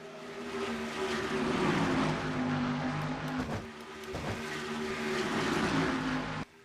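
Stock cars racing in a NASCAR-style Dodge Challenger 500 video game race, with several engines droning at high revs and tonal whines rising and falling as cars pass close, in continuous sound without speech.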